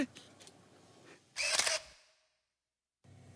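A camera shutter fires once with a sharp mechanical click-whir while a selfie is taken behind the scenes of a film shoot. Quiet voices and rustling come before it, and there is a short silence after.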